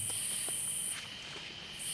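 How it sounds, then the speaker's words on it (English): Insects chirp at a campsite after a rainstorm, a bright high continuous buzz that cuts out briefly midway then returns, with faint scattered ticks and rustles beneath and no voices. "Just cicadas and bugs and that type of stuff chirping, whatever that is."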